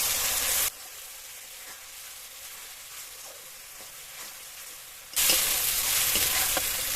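Ginger, garlic and green chili paste fry with onions in a pan for a chicken dish. Steady close sizzling runs throughout with faint stirring taps, and it is louder at the start and the end.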